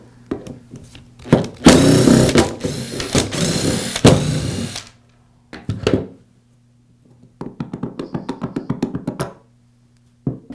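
Screws being backed out of the spindle assembly housing on a Makita angle grinder during a spindle gear repair, heard as bursts of loud close-up screwdriver whirring and scraping with short pauses between them and near silence in the gaps.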